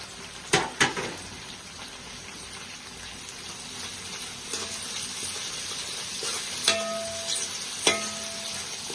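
Onions with mint and coriander frying in a pan for chicken pulao, a continuous close sizzle broken by several sharp knocks of a utensil against the pan, with no talking.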